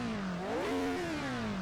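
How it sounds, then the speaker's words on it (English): A 1975 Formula One car engine in Assetto Corsa revs briefly, its pitch rising and then falling away in a smooth, buzzy whine, close and alone. "I'll give you a quick opportunity to listen to these revs."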